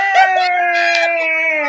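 A dog howls close and loud in one long, sustained, slightly wavering tone that slowly sinks in pitch, with no other sounds around it.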